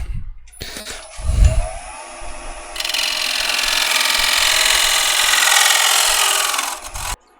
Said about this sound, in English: We're just going to get a scraper and clean it out with a scraper.